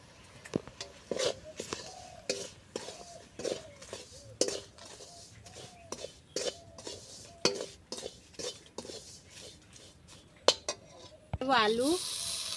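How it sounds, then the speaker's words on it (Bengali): Ground flattened rice (chira) frying in oil gives a low sizzle under repeated sharp clinks and scrapes of a spoon against the pan, with a louder hiss bursting up near the end. "এবার তেলের মধ্যে দিয়ে দেবো গুঁড়ো করো চিড়ে"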